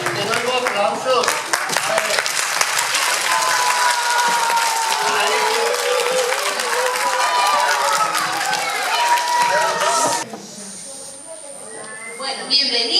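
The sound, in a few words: audience applause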